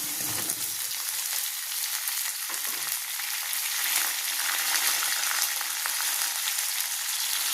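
Onion sautéing in a pan with radish and brinjal, a continuous bright sizzle of frying with occasional stirring, close and steady for the whole stretch with no voices.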